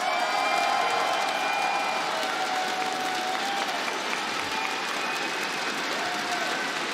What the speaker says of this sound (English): you're hearing the crowd, you're hearing the excitement